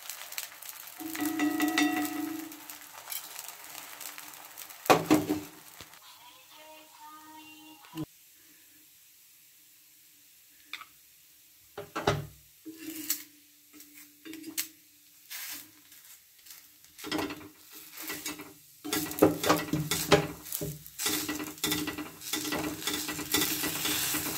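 Oil sizzles on a griddle as patishapta crepes fry: hissing comes in bursts separated by near-silent gaps, with sharp scraping and clinking of a utensil on the pan, close and fairly loud.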